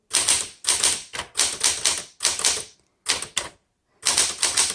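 A 1966 Smith Corona Classic 12 manual typewriter clatters in loud, close bursts of rapid keystrokes, each run broken by short pauses, with no talking.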